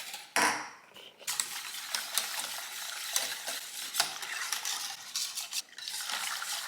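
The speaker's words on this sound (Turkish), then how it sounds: "Şimdi bunu ocağa aldım ve muhallebi kıvamına gelene bunu şöyle karıştıra karıştıra ocakta kaynayınca altını kapatırım." A spoon stirs a milk pudding mixture in a pot on the stove, scraping and clinking repeatedly against the metal in an uneven rhythm, close and fairly loud, with no talk.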